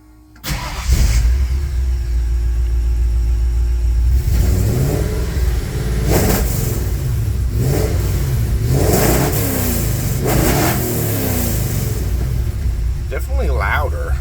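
A Ford F100 with a DOHC engine starts and revs repeatedly through MagnaFlow mufflers, loud swelling blips rising and falling over a steady idle, with voices talking nearby.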